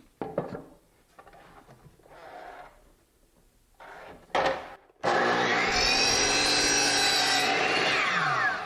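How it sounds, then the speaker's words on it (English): A compound miter saw cuts birch plywood at 45 degrees; scraping and rubbing of wood come first, then the motor spins up loud and a sustained, high-pitched cutting whine runs to the end. "Then we'll cut off the 4 cleats and then the 2 braces here at the compound miter saw."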